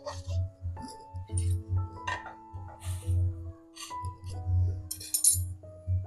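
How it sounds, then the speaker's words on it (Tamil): A lid goes onto a cooking pot of snake gourd, making a series of close, light glassy clinks and rattles, with a low intermittent rumble beneath. "மூடி வச்சுருவோம், வேகட்டும்."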